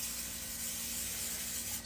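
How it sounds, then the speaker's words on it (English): A can of Pam cooking spray hisses into a cake pan in one steady, close spray lasting under two seconds. "I just use some Simple Pam spray."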